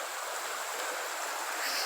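Stream water serving as a property's water source flows in a steady, moderately quiet hiss with no distinct splashes, heard from nearby and without any talking.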